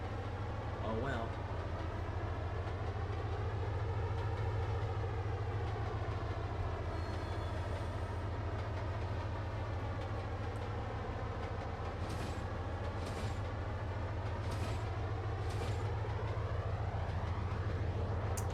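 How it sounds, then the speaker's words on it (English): Train running in the Trainz Simulator 2 game, a steady loud rumbling drone with shifting engine tones and a few sharp transients, continuous throughout. "Ooh, another train."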